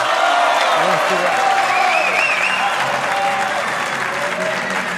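Spanish fans in the pool arena at the 2023 World Cup of Pool clapping and cheering loudly for Team Spain, a continuous roar of applause with a commentator talking over it.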